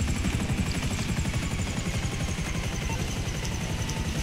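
Helicopter touching down in GTA 5 Online, a steady low engine drone with rotor chop that holds at even, close loudness from start to finish, with no voices over it.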